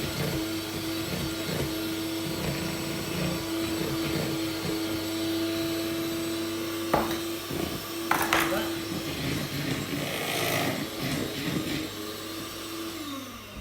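An electric mixer beats cake batter in a home kitchen with a continuous whirring drone that holds steady for several seconds before winding down, with small clinks of the beaters against the bowl.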